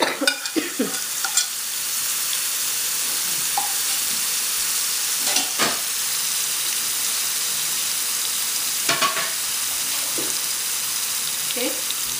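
Tandoori fish frying in a pan as leftover marinade is poured over it, giving a steady broadband sizzle throughout with brief louder bursts and occasional clatter, fairly close and with no talk.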